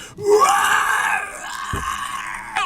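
A human voice imitating a swelling of screams coming from all around during a tabletop roleplaying game: a strained, rising wail that holds and groans on for a few seconds, close and loud, with no other talk.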